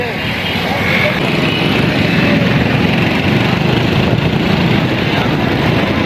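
Motorcycle engine droning steadily while riding near a club in Faisalabad, a continuous loud broadband rumble with wind noise throughout.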